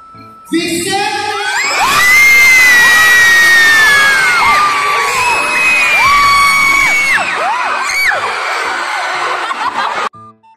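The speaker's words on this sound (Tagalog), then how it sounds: "Pag natawag nga po ang pangalan ng school mo ay sumigaw nga daw po." Students shouting and cheering as their school's name is called at a school event, a loud crowd of young voices whooping and screaming together for several seconds before cutting off abruptly.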